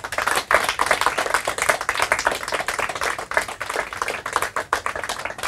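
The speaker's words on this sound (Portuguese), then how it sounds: "Palmas para eles." An audience at a Portuguese-language quiz event gives a quiz team a sustained burst of dense, lively applause from many hands, loud and alone.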